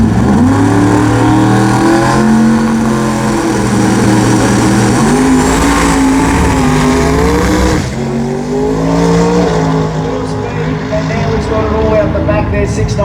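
A race car drives through a tyre chicane at the Garrett Brisbane Jamboree, its engine loud and continuous with rising and falling revs as it threads the tyres, and a commentator's voice runs over it.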